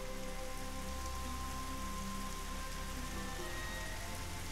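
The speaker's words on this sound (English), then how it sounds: "Yes, rain!" Steady, dense patter of rain in the video game Dig or Die, a continuous hiss of drops on surfaces running without a break, with faint tonal game sounds beneath and no talking.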